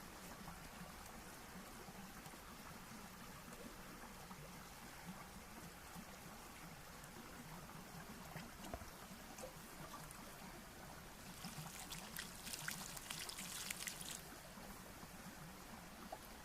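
Water trickles into a planting basin dug around a newly planted perennial celery or lovage, a faint, continuous flow that grows briefly louder and splashier toward the end.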